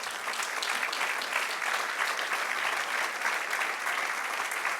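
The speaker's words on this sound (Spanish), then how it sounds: "Denle un aplauso al Señor." A church congregation claps together in sustained, dense applause, a steady wash of hand claps filling the room evenly from start to finish without letting up.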